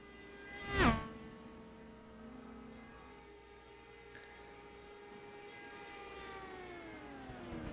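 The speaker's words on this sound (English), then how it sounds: "if you heard a high-pitched whirring sound, that was the Dallara IR05 chassis of Richard West" A Dallara IR05 open-wheel race car driven by Richard West whirs past on a test session circuit, a sharp rising-then-falling pass near the start, followed by a long sustained high-pitched drone that slowly fades and returns in the distance.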